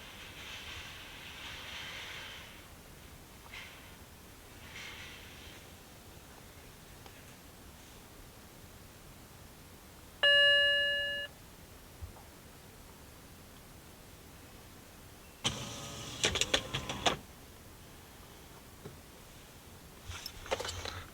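The power-fold mirror motor of a BMW E9X 3 Series, a retrofit, runs in a short whirring burst of about a second and a half. A brief electronic tone sounds earlier over a faint, quiet background with no talking.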